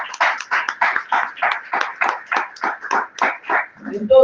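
A church congregation claps together in steady unison, about three claps per second, loud and close, with a brief voice at the very end.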